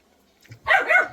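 A dog gives a quick pair of sharp barks, fairly close and moderately loud, after a short quiet moment.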